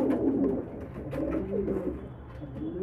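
Pigeons coo softly inside a loft, a few low, rolling calls that overlap at close range, with no talking.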